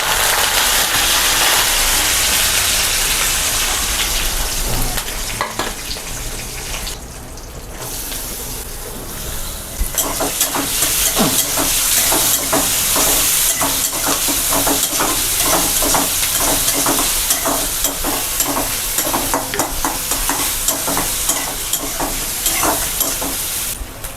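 Cumin, ajwain, mustard seeds, garlic and curry leaves sizzle loudly in hot oil for Maharashtrian misal, a dense crackling hiss that dips briefly and then returns with rapid spattering pops.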